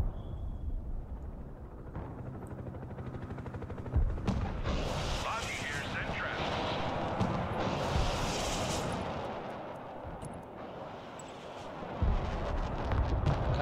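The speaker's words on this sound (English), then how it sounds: "Gotta bomb that." Bombing explosions in the Broken Arrow strategy game, with deep booms and rumbling blasts rolling through the clip at moderate distance while someone talks over them.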